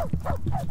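In the video game Youropa, a dog gives a quick string of short, yelping barks after being kicked, heard over a dense game background.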